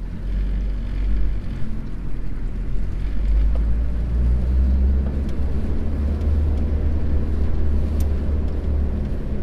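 A 1987 Toyota Land Cruiser LJ71, right-hand drive, rolls along with a steady low engine drone and road rumble throughout, close and fairly loud, with no talking.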